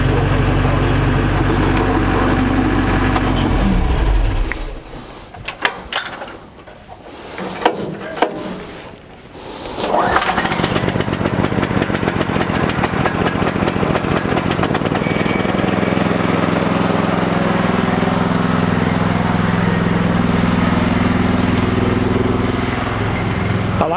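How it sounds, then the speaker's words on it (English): A sawmill engine runs steadily at a loud, even idle, its drone broken midway by a few seconds of sputtering and knocking before settling back into a constant hum with some clatter. "I like to give the mill a little bit of time to get warmed up before I put any load on it."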